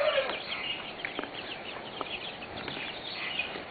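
Young chickens cluck and chirp softly inside a small half-round wooden-floored barn, a faint scattered murmur of calls with a steady background hiss.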